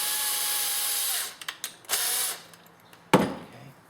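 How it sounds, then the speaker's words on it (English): A power drill twisting wires together whirs in short bursts, spinning up and stopping several times, with a final brief sharp burst; no voices. "so I'm going to use my drill"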